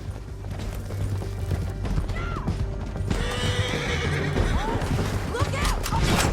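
Horse in the video game Red Dead Redemption 2 whinnies several times over rapid galloping hoofbeats, with continuous rumbling and loud action sounds mixed under the ride.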